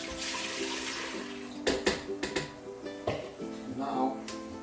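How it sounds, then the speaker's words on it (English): Four cups of apple juice poured into an Instant Pot while cooking ribs, a short splashing pour into the metal pot with clinks and knocks around it, heard under a speaking voice. "I've got 4 cups of my apple juice right into the pot"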